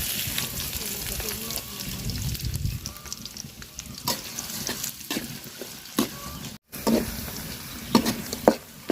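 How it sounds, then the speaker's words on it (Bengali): Onions fry in hot oil with cardamom, cinnamon and bay leaf, a steady close sizzle broken by scraping stirs and clinks of a utensil, with a brief cut partway through and no talking. "গরম মশলা দিয়ে দিলাম এলাচ দারচিনি তেজপাতা আর দিয়ে দিব পেঁয়াজ একসাথে বাজার নিব সবগুলা"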